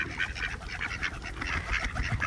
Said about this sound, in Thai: เราจะให้เป็ดสีน้ำตาลนะ